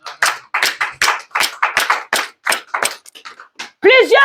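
A congregation applauds during a French-language church service, with brisk, rhythmic clapping in quick bursts close by, ending with a brief sung or voiced tone.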